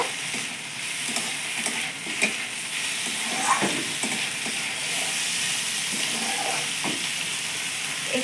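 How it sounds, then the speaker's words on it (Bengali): A steady sizzle of meat frying in a pan fills the clip, with occasional scraping and stirring clicks from a utensil; no talking. "একটু ভালো করে ভেজে নেব।"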